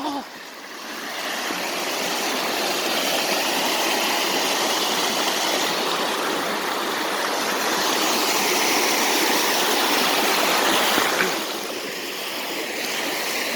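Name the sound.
waterfall and stream water flowing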